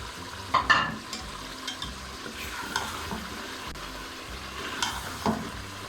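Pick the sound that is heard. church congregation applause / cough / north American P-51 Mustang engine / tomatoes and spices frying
tomatoes and spices frying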